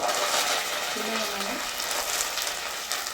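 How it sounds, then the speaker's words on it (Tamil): Cumin and fenugreek seeds crackling in hot oil for a dried-fish thokku, a dense continuous sizzle close to the pan. "சீரகம், வெந்தயம் போட்டு பொரிய விட்டுக்கலாங்க"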